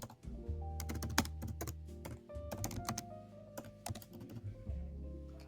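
Keys clacking on a computer keyboard as the mkdir command is typed into a terminal, a close run of quick irregular taps with brief pauses and a low hum underneath.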